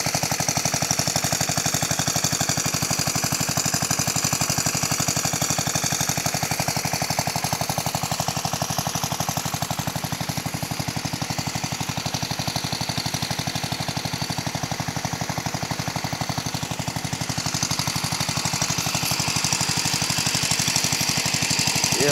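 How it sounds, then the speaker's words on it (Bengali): An electric water motor pump runs steadily, giving a loud, continuous mechanical hum and rattle that holds unchanged throughout with no voices. "এই মোটর পাম্পে তেমন বেশি আওয়াজ বা শব্দ নেই। বিদ্যুৎ দ্বারা এই মোটর পাম্পটি চালিত হয়ে থাকে।"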